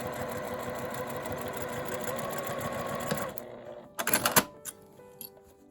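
A sewing machine runs in one steady, rapid stitching run while sewing a zipper pouch, then stops abruptly, followed by a few clacks and rustles of handling the fabric.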